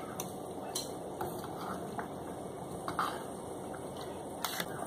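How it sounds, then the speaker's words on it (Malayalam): A spoon stirs chicken curry in a pot, giving a handful of soft, irregular metallic clinks and scrapes over a quiet background hiss. "ജസ്റ്റ് ഒന്ന് ഇളക്കി കൊടുക്കാം."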